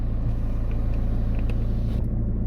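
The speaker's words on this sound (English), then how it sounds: "I have a direct path to the engine sound or the engine note" A 2018 McLaren 570S Spider's engine idles as a steady low rumble, heard close and continuous through the open rear window, with no talk over it.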